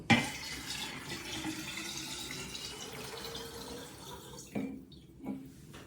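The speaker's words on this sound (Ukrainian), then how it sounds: "Додаємо спирту воду." Water poured steadily into alcohol for an aquavit infusion, a continuous close splashing stream for about four seconds that thins and breaks off into a few short trickles and drips.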